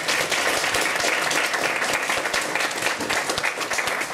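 An audience at a Polish motoring event with rally driver Sobiesław Zasada claps in welcome, a full, steady round of many hands with a few sharper claps standing out, sustained and close.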